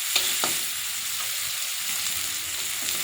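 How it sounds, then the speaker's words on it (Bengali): Onion and garlic sizzling in hot oil, a constant close frying hiss broken by a few sharp clicks of a spoon stirring the pan. "পেঁয়াজ রসুনটা ভাজা ভাজা করে নিলে ফোড়নে আপনারা"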